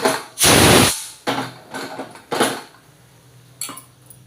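A metal pressure cooker is lifted and set down on a gas stove in a home kitchen, giving a loud hissing release followed by several close clanks and scrapes of metal on the burner.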